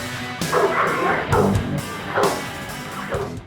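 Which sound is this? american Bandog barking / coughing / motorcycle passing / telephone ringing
american Bandog barking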